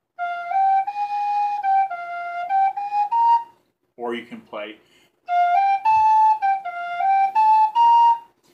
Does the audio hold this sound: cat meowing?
no